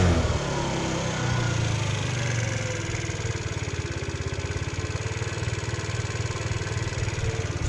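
A GY6 scooter engine fitted with 8-gram sliders idles while warming up, its back tire spinning freely, giving a close, steady, rapidly pulsing drone with a slight change in pitch near the start.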